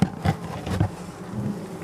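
A close, steady hum of many honeybees buzzing at a hive after autumn feeding, with louder swells as individual insects pass nearby.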